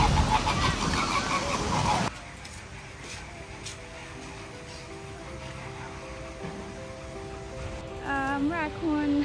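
Birds calling in the open-air Crimson Wetland aviary at Bird Paradise, Singapore, with a loud burst of mixed noise at first, then steady tonal calls and goose-like honks over a soft wash, rising again near the end.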